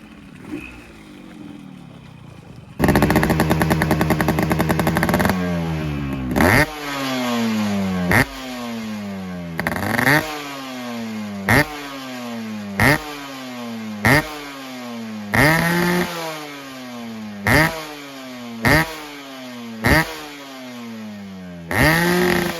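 A Yamaha RX Z two-stroke motorcycle from 1999 with its exhaust note: after a brief idle the engine is blipped loudly again and again in sharp, regular revs that climb and fall back, close by with no talking.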